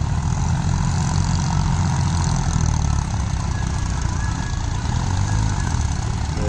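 A tractor, one of New Holland 3630, John Deere 5050D or Swaraj, idles steadily at a pond dig, giving a continuous low engine rumble with a faint metallic whine, loud and unbroken throughout without talk.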